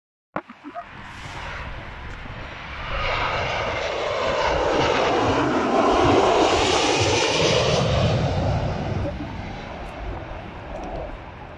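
A Somon Air Boeing 737 landing at Zurich gives a broad jet roar that swells to a loud peak midway and then slowly fades, heard from outdoors.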